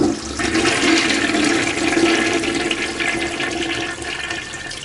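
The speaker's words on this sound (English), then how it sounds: "when I hit the flush" A toilet flushes loudly and close, with a rushing, gurgling water roar that swells and then slowly fades while a drain snake sits in the bowl.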